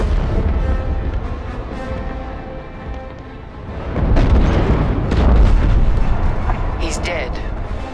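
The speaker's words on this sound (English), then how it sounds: "The frigate is about to explode." A frigate exploding in Star Wars Squadrons: a deep, rolling roar that swells midway into a heavier booming rumble and keeps thundering under dense battle noise.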